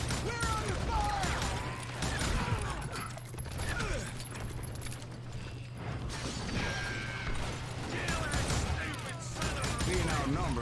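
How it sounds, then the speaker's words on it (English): Gunfire in the Wild West shooter Call of Juarez Gunslinger, rapid overlapping shots and metallic clicks of weapon mechanisms in a steady barrage, mixed with voices talking over the fight. "Who's shooting? We're under fire!"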